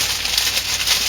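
Scissors snipping through a shrink wrap bag while a hand scrub gift basket is assembled, giving a steady close crinkly hiss and crackle that runs without pause.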